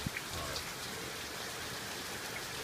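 Steady rain patters down in a continuous broadband hiss, with a few nearer drops tapping on a surface early on; no voices.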